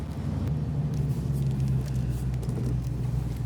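Low, droning engine rumble from a 2003 Morgan Plus 8, 35th Anniversary Edition, accelerating in second gear, steady and moderately quiet with faint road patter over it.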